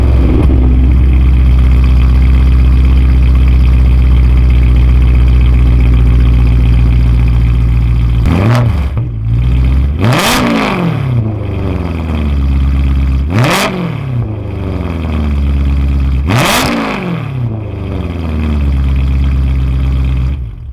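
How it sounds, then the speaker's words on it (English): BMW M3 with an aftermarket exhaust idling loudly up close, then four sharp rev blips that spike and fall back to a steady idle. "I'll give you guys a startup and a couple blips so you guys can hear what the car actually sounds like"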